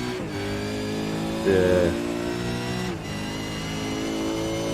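A V8 Supercar roars around Mount Panorama in a racing simulator game, its engine note steady and loud, then briefly shifting pitch with a short voiced word before holding again.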